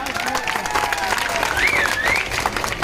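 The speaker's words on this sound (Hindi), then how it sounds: "जबरदस्त ताली।" An audience applauds at a Chhattisgarhi film event, a loud continuous crowd clapping with a few voices and cheers mixed in.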